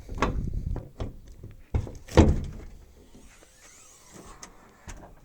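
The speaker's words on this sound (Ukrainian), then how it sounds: "Сейчас відкрию двигун." Engine cover of a new Perkins-engined hydrostatic loader being opened, a few sharp metallic clunks and latch thunks followed by a louder creaking swing, then quieter rattles and a final tap.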